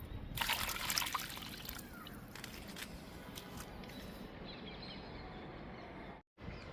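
Liquid fertilizer poured onto moringa plants outdoors, a faint trickling and splashing strongest at the start, then a soft continuous dribble that fades, with a brief drop to silence near the end.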